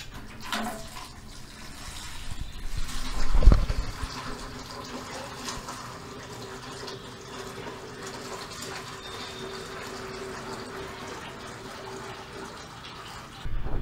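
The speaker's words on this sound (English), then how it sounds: "I'm removing the water." Water being drawn out of a small model cofferdam, a soft steady trickling and gurgling flow with a brief louder splash early on, continuing quietly throughout.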